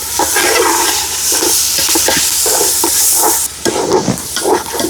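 Rice is stirred and sautéed in a hot pan with ginger-garlic paste, turmeric, chili, cumin and coriander powders for Bengali chickpea khichuri; a loud, close sizzle hisses continuously, broken by scraping stirs.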